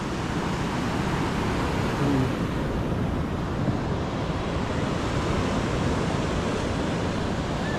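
Steady roar of sea waves washing in continuously, with a broad rushing surf sound and some wind, no voices.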